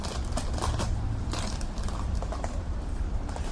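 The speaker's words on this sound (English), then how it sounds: "There's a small dog eating a plastic bottle over there" Continuous crinkling, crackling and creaking of plastic being chewed and crushed by a small dog, fairly faint and steady throughout.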